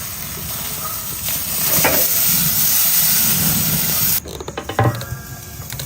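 Steak sizzling loudly in a hot pan, a dense close hiss that cuts off abruptly, followed by a few clunks and softer crackles.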